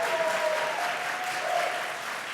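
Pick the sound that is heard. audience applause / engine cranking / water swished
audience applause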